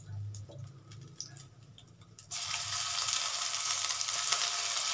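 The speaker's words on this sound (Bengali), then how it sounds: "রসুনটা আমি এক্ষুনি দিয়ে দিচ্ছি" Garlic hits a hot pan for a tangra fish curry with potatoes and pumpkin, bursting into a loud, steady sizzle partway through after quieter kitchen clatter, then frying continuously and close.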